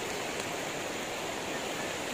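River water rushing at Martin Falls in Olongapo, a steady broadband roar of flowing water that holds evenly throughout with no pauses.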